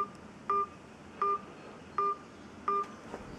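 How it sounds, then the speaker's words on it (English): Four evenly spaced telephone keypad tones sound as a password is entered on a phone line for a garage door opener system, each a short clean beep over a faint hiss. "Please enter your password followed by the pound key."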